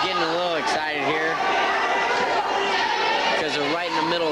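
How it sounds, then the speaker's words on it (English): An excited crowd in a gym at a 1996 Concordia versus Abilene high school wrestling match in Austin, steady cheering and chatter near and loud throughout, with a voice talking over it. "the crowd's getting a little excited here"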